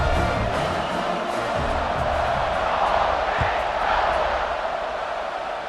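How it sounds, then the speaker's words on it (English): Stadium crowd roaring in EA Sports College Football 26 during a kickoff, a steady dense wall of cheering and noise that stays loud throughout, with faint commentary underneath. "Do you think this crowd's going to get loud when their defense comes on the field?"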